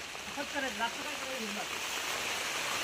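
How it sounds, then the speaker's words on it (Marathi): Steady rain hisses evenly throughout, with a brief voice speaking at the start. "पाऊस आला चल घरा"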